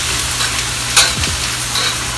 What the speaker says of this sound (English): stir a real quick fry on them, give them some color